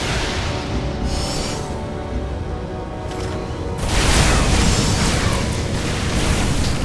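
A unit fires on a ship in Civilization Beyond Earth, heard as steady booming combat noise that swells louder partway through, with no talk over it.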